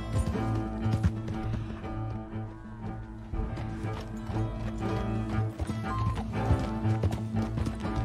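A horse in the Red Dead Redemption II video game, with steady clip-clop hoofbeats and whinnies over a dense game soundscape, heard up close and continuous.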